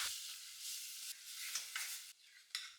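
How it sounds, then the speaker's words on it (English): Garlic and onion sauté in a pan, a soft sizzle broken by several scraping stirs of a utensil, fairly quiet and close with no talking. "Saute garlic and onion until fragrant."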